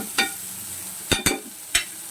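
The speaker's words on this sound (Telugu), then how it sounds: "ఇవి బాగా వేగినాయి కదా" Spiny gourd (agakarakaya) pieces fry in a pan with a soft steady sizzle, broken by four crisp scraping clicks of a stirring spoon, two close together near the middle.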